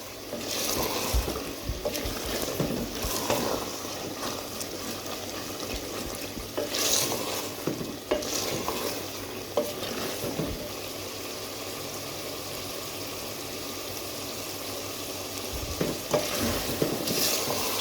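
Mutton and bottle gourd sauté in a pan, giving a continuous sizzle broken by repeated spoon scrapes and stirring knocks in irregular bursts, close by and without speech.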